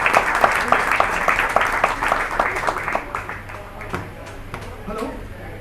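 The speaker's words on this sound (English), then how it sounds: "give a round of applause, guys" An audience at a stand-up comedy show in a food court in Muscat, Oman claps and applauds loudly, then the clapping thins out to a few scattered claps while voices murmur.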